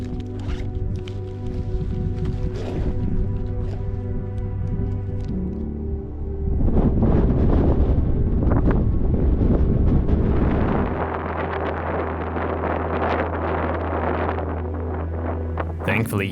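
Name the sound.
strong wind on a mountain peak in Montenegro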